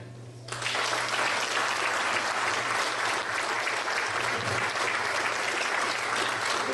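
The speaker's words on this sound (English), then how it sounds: "Let's give them another round of applause." Sustained applause from an audience at a Father's Day celebration event, starting abruptly and holding steady and loud as a dense wash of clapping with no speech over it.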